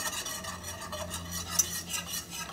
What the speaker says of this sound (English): and we're gonna whisk it in